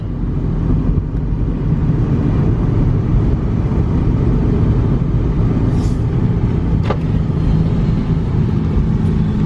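A cheap used car bought for $400, its engine idling steadily with a low constant rumble, close and loud, with a couple of faint clicks over the drone and no talking.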